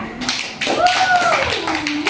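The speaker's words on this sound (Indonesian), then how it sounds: "tepuk tangan untuk kelompok 1" Students in a classroom clap briefly for a presenting group, a short burst of taps mixed with voices and a rising spoken tone over it.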